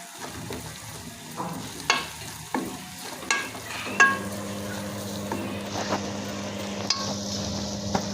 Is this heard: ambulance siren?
no